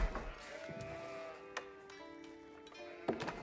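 Sheep bleat in the real-time strategy game Age of Empires IV, several wavering tonal calls at low volume amid scattered clicks and light game effects.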